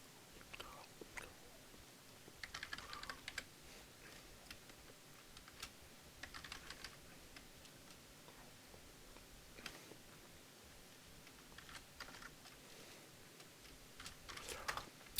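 Computer keys clack faintly as code is typed, in irregular bursts of quick taps separated by pauses, with soft low room noise beneath.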